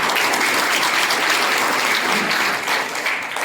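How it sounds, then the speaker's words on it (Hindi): Loud, dense applause from a crowd at a school event at Bal Shishu Mandir, steady and sustained throughout with no break. "इस पे तो मेरे ख्याल से एक जोरदार तालियां भी बजनी चाहिए"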